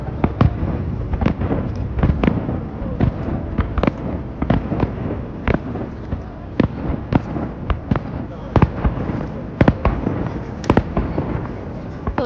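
Nightly summer fireworks show over Niagara Falls: a steady run of sharp bursts and crackling pops at irregular intervals, loud and sustained, with faint voices in the crowd beneath.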